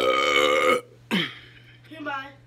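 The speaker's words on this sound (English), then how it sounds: "It makes you burp." A long, loud, close burp rumbles out after a sip of a drink, then trails off into laughter and talk from nearby people.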